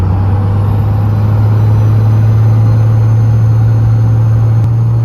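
A modified pickup truck engine, loud and close, with a steady deep droning rumble throughout and no clear rise in revs.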